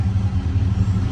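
Small gas engine on a power washer, governed at around 3,200 to 3,400 RPM, running close by as a steady, even, throbbing hum with no talk over it.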